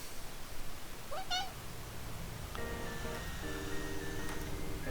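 A cat meows in the Trails Through Daybreak role-playing game, a short rising call near the start, then steady game music and chimes carry on over low background noise.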